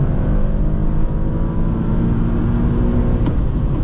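A 2017 Infiniti QX70 AWD engine revs out under hard acceleration, heard from inside the cabin as a loud, steady climbing drone with no speech.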